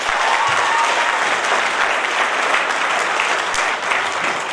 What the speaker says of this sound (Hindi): अपने आप के लिए ताली बजाओ जोरदार